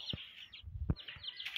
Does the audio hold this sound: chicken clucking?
yes